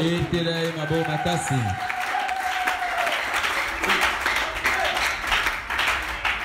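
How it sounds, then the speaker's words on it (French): A church congregation applauds loudly and steadily, with a sung or sustained voice line fading in the first seconds under the clapping and crowd noise. "Acclamez très fort"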